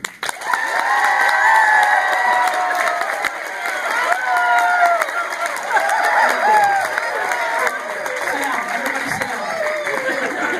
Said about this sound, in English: everybody to clap as loud as they can